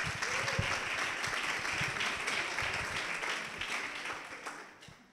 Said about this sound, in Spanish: Un fuerte aplauso para Jorge Hernández.